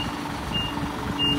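Reversing beeps from a UD prime mover pulling a semi-trailer, two short high tones spaced apart over a steady engine drone and background noise.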